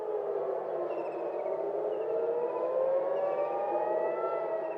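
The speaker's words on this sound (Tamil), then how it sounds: "செவ்வாய்க்கிழமை டெல் அவிவிலும் எச்சரிக்கை சைரன்கள் ஒலித்தன." Air raid warning sirens wailing in Tel Aviv, a steady rising and falling tone from a distance, continuous and alone.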